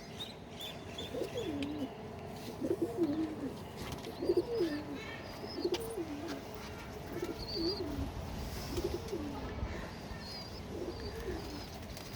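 Several pigeons coo in a repeated, rolling rhythm, fairly close and steady, with faint chirps from other birds and light background noise; pigeons of a newly paired couple with their young settled on roosting perches.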